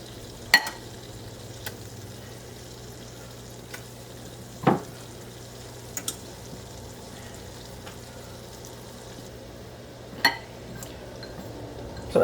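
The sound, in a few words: beef browning and sizzling in a pan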